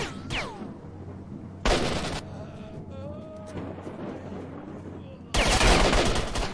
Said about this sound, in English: I shoot him with a NATO bullet in the face